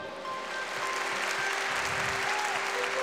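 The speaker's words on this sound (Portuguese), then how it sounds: "Pode aplaudir." Congregation at a Saturday church testimony service applauding continuously for three seconds, a dense, fairly loud wash of clapping with no talk over it.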